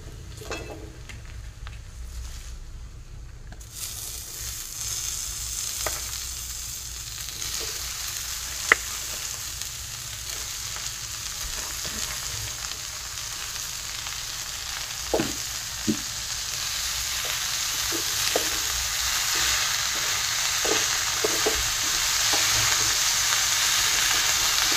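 Dried red chilies sautéing in a hot pan, a steady frying sizzle with occasional stirring clicks and scrapes, building slightly louder after a quiet start, no talk.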